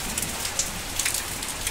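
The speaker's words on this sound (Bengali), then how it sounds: "বাইরে শুরু হয়ে গেছে বৃষ্টি" Steady rain patters and hisses continuously, with scattered brighter drips standing out against the dense wash of falling water.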